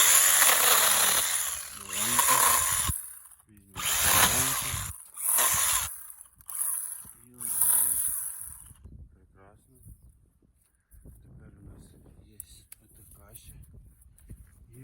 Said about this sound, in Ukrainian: давайте перевіримо, як різе наша пила